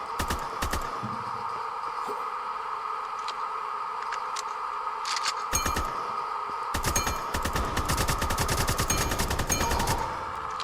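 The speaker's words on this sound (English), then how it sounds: "Me playing the game, running around and shooting some enemies" Rapid gunfire from an FPS video game while shooting enemies: scattered single shots early, then dense automatic bursts later, loud and sharp over a steady tonal game hum.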